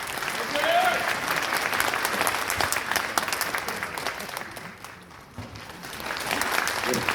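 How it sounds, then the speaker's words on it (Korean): Vigorous applause from a crowd welcoming election candidates for farmers' union chair, secretary-general and policy chief, continuous and close with a dip midway before swelling again, mixed with some voices. "앞으로 힘찬 박수로 모시겠습니다"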